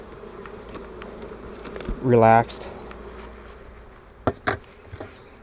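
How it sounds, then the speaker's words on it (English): Honey bees buzz around an open hive during a morning inspection, a steady low hum with a close bee briefly whining past the microphone, followed by a few sharp clicks while a person speaks briefly. "I actually like working the bees in the morning here."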